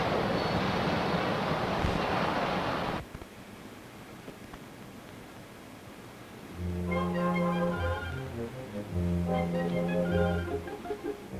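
Water gushes from a water company's pipe in a loud, dense, hissing rush for about three seconds, then cuts off abruptly, and music follows.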